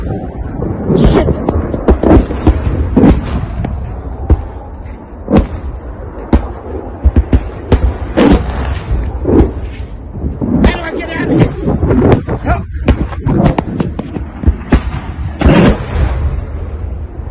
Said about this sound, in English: we're running away from rockets over here